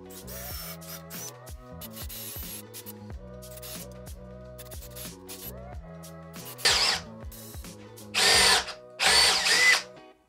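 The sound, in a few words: power drill drilling holes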